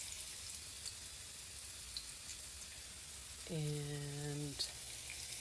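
Keto onion rings fry in a pan with a soft, steady sizzling hiss at low volume, and a short voiced tone sounds briefly partway through.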